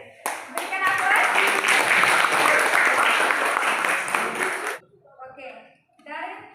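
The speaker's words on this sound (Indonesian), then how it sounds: "Berikan aplaus." Students in a classroom break into loud, sustained applause lasting several seconds, then it cuts off abruptly and a voice speaks briefly over quiet room tone.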